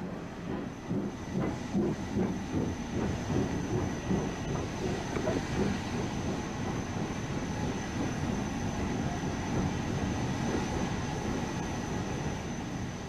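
Trains run at a docks complex served by shipping-line boat trains, giving a faint, distant rumble of rolling wagons with a steady hiss like steam and a thin high whine over it, continuous with no clear voices.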